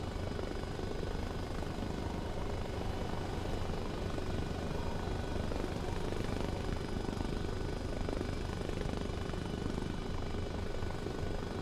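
A helicopter flies and comes in to land in the DayZ video game, its steady rotor thump and engine drone loud and constant throughout with no pauses.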